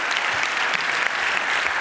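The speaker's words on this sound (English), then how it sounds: "Give him a warm round of applause," Sustained applause from a conference audience greeting a speaker about to give a talk on NSA spying, a dense, steady wash of many hands clapping at once with no voices over it.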